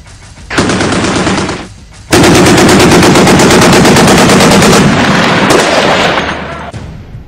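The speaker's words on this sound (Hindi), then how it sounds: "शानदार सुपर रैपिड गन का मजा लीजिए" Super rapid gun aboard a Type 055 destroyer firing in sustained bursts, a short burst followed by a longer continuous roar of rapid shots, very loud and close.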